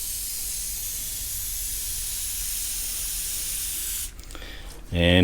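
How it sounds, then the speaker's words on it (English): A continuous close hiss of an aerosol can spraying onto vintage motorbike wheel spokes, steady for about four seconds before stopping with a short clatter. "So we'll go about spraying all these"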